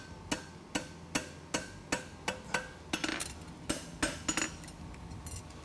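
A horseshoe is hammered in front of an anvil, over a gap, with sharp ringing metallic strikes landing in a steady rhythm about twice a second, close and clear.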